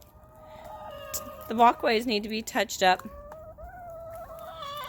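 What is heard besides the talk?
chickens clucking while following the speaker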